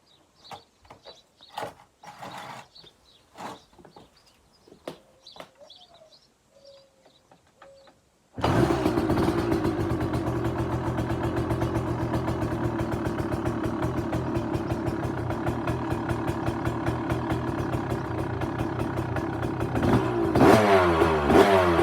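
A cold KTM two-stroke dirt bike with fuel and choke on fires on the first kick after a few quiet mechanical clunks, then revs loudly and steadily close by, blipping higher near the end.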